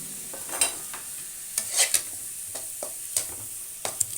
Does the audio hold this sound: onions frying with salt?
yes